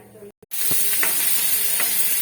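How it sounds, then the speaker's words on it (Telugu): Onions drop into hot oil for a pudina peanut chutney tempering and burst into a bright, steady close sizzle after a short quiet start, with a few stirring clicks and no talk. "ఇంకొంచెము ఆనియన్ ఇప్పుడు ఇలా ఫ్రై చేసి వేసుకుంటే"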